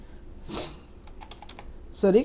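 Keys clatter on a computer keyboard during SEO keyword entry for an Amazon KDP unicorn coloring book cover, with a few quick close taps between soft, brief bursts.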